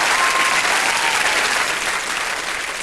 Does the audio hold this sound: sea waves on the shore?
no